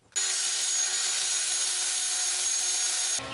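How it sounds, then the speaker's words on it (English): A turned wooden goblet has its bottom sanded on a woodturning lathe. It makes a steady, continuous abrasive rasp that holds evenly for about three seconds and then cuts off abruptly, with no voices. "Alright, the bottom is sanded."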